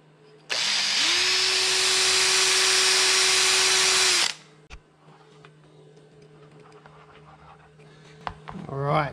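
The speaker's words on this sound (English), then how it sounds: "I'm actually going to drill this hole out so we can thread that through" A power drill whines loudly and steadily for about four seconds while drilling out a hole in a 40 Series Land Cruiser heater blower motor part, then stops, leaving quieter clicks and handling noises.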